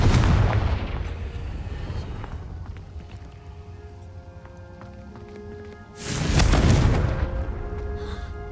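A Confringo blasting curse goes off in a Hogwarts video game, a deep booming explosion with a rumbling tail, followed by a quieter stretch and then a second loud blast.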